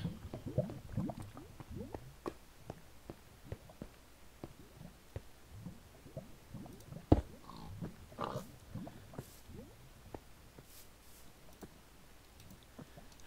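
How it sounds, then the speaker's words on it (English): Many pigs grunting and oinking up in the mountains of a video game world, with short clicky grunts coming steadily through the whole stretch and one sharper snort standing out partway, all fairly quiet with no talk. "Oh, so many pigs up in the mountains."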